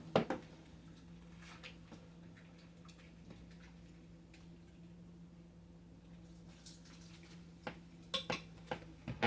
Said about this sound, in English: I think I'm going to have to stir my soup up to get some of them beans in there